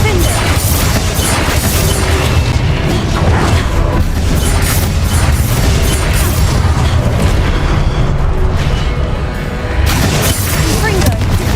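Confringo blasting spells explode in Hogwarts Legacy with rapid, repeated booms and crashes, loud and constant for the whole stretch, with talk running beneath them.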